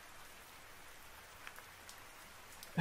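Soft, steady rain falls outdoors, a faint, even hiss with a few scattered drop taps, ending in a sudden louder burst at the very end.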